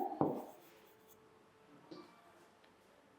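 Writing on a board, a brief scratchy stroke near the start, then faint rubbing and tapping marks in a quiet room.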